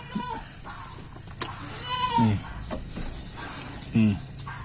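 Young kacang goats at a livestock sale bleat in a few short, wavering cries spaced a second or two apart, set against low background noise.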